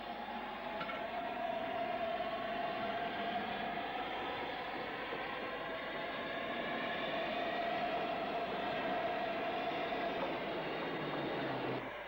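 A steam-hauled tour train departs from Southampton terminus with a steady, heavy rumble and rolling wheel noise. The sound stays loud and continuous throughout, with no voices.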